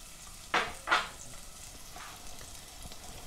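Chopped onions softening in a pan with garlic for butternut squash soup, a quiet steady sizzle broken by two sharp scraping stirs early on, then soft clinks and stirring noises, nearby and without speech.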